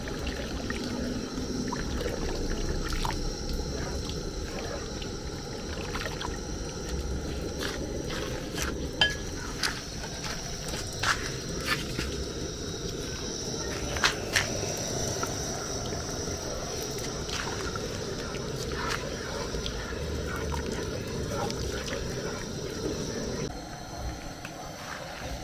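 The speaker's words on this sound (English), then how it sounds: "I will be continuing to stir it like this." Spicy jam being stirred in a pot, a steady soft scraping and bubbling texture with occasional clinks of the spoon against the pot, continuing evenly for the whole stretch with no talking.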